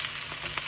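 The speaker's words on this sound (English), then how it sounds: "the cabbage is wilting a bit, so it needs to be kept stirring" Shredded cabbage stir-fried in a hot pan for a Thai prawn dish, giving a steady broadband sizzle with faint scraping stirs, close and alone.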